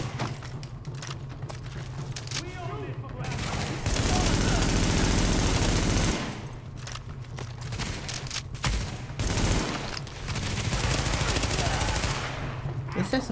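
SMG gunfire in The Division: loud rapid automatic bursts, one long burst and several shorter ones, close and dominant over a busy game soundscape, with a voice talking in between.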